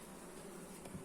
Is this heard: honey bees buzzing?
yes